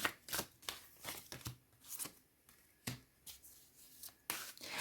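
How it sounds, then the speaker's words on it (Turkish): Tarot cards drawn from a deck, heard as quiet, close rustles and flicks of card stock that come in short irregular bursts with near silence between them. "Buradan da birkaç kart alalım."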